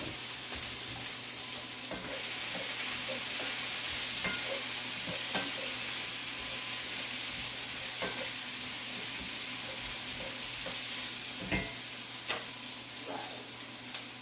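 Bacon frying in a pan in a humid kitchen, a steady, moderately quiet sizzle with scattered small pops and utensil clicks over a low hum, continuous throughout.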